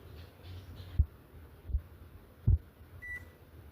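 A microwave oven set to grill mode and started: a few soft dull button thumps about a second apart, then a single short electronic beep, faint and close, over a low steady hum with no talking.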